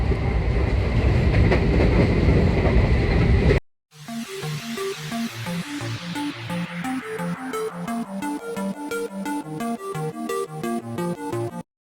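A MEMU express train on the Narasapur to Rajahmundry line crosses the old Godavari road-cum-rail bridge: a steady loud roll gives way after a brief gap to a long run of rhythmic wheel clatter over the bridge joints, with no talk.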